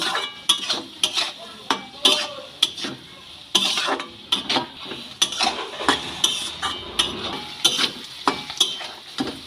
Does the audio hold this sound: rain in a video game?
no